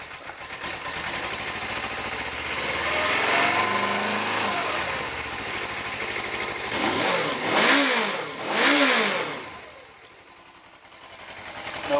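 A motorcycle engine with a bit of choke runs at a steady idle, then is revved twice in quick rises and falls before settling back to a lower idle, near and continuous.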